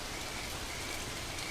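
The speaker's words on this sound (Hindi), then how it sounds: "इस तरह अचानक मूसलाधार बारिश होना अजीब है" Sudden torrential rain on the Serengeti plains, a dense, steady hiss of heavy downpour with no breaks, loud and even throughout.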